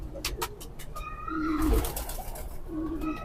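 Kasuri pigeons cooing close by, a few rolling, throaty coos rising and falling over faint chirps and clicks.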